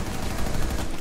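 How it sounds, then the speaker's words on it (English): Rapid gunfire from above on a roof in Rainbow Six Siege, a dense burst of loud overlapping shots filling the whole moment with no talking. "I think they're shooting from the roof."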